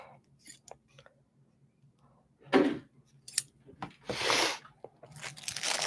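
Scissors snip metal tags on handmade clutch wallets sewn from obi and kimono fabric, giving a few sharp close cuts and crunchy rustles. A low whispery voice sits under them.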